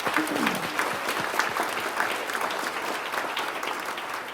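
Steady applause from a crowd, a dense wash of clapping that holds evenly throughout at moderate loudness.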